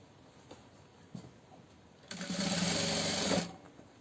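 A sewing machine stitching fabric for a small fabric organizer basket, a rapid continuous run of about a second and a half after a few faint handling taps, close and clear.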